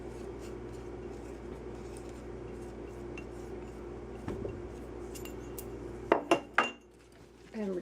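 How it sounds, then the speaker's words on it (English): Frozen fruit is tossed with sugar and tapioca starch in a bowl: a few sharp clinks and knocks near the end, set over a quiet, steady background hum. "we're just going to get the fruit pieces pretty well coated by the sugar and the tapioca starch"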